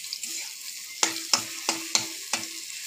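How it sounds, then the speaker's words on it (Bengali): Potatoes frying in oil with chili and cumin, a steady sizzle broken by five sharp scraping stirs at roughly regular intervals, close and fairly loud with no talking. "তেল দিয়েছি, তেলের ওপরে লঙ্কা দিয়েছি, জিরে দিয়েছি, দিয়ে আলু দিয়েছি, দিয়ে ভাজছি।"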